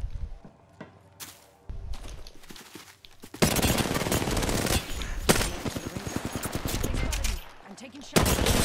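Gunfire erupts in a firefight in the Apex Legends video game: sparse single shots at first, then dense bursts of rapid automatic fire and impacts that continue loud and nearly unbroken to the end, with occasional background talk.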